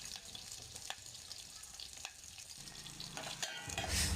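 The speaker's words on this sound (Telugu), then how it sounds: "క్యారెట్ వేసాక కలబెట్టాలి." Onions and carrots fry in oil in a bowl-shaped pan while being stirred, making a soft, low sizzle with a few light spoon clicks. The sizzle swells slightly toward the end.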